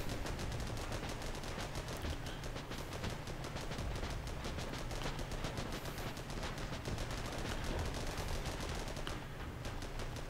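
Sustained rapid gunfire from a World War 1 armored vehicle in a battle game, a steady rattling machine-gun stream running throughout, faint and somewhat distant.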